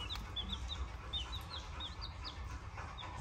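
Young backyard chickens make soft, high chirping peeps repeated in quick bursts, faint and close over a low rumbling background, with no talk.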